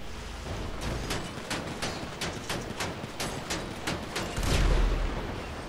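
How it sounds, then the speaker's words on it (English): Rapid string of explosions and gunfire bursts in the video game Grand Theft Auto Online, about a dozen sharp booms in quick irregular succession over a rumbling background, with a heavier blast near the end. "Hey, I hear explosions."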